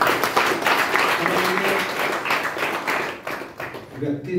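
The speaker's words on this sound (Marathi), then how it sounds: "आपण आजचे सूत्रसंचालक आणि ईशस्तवन यांच्यासाठी टाळ्या वाजवूया" An audience at a lecture series claps in a sustained round of applause that thins out toward the end, with some voices coming through underneath.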